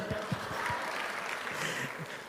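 Church audience applauding a drama team and event committee during a sermon, a steady wash of clapping with some sharper individual claps, moderately loud and continuous throughout.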